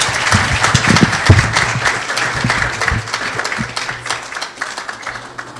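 Audience applause for a young essay contest reader at an awards event, a loud sustained round of clapping from a crowd in a hall, tapering slightly toward the end.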